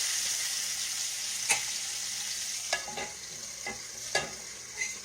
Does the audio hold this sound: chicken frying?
yes